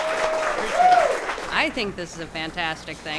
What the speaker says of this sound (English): I'd like to just give a round of applause to the folks from Endless Brewing.